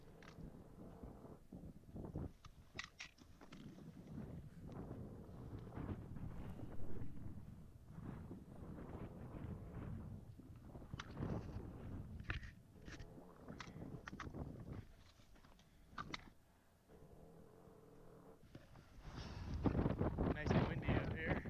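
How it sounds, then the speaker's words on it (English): Gusty wind buffets the microphone on the summit of Mount Diablo, a steady low roar with stronger surges near the end, while someone talks over it. "Nice and windy up here."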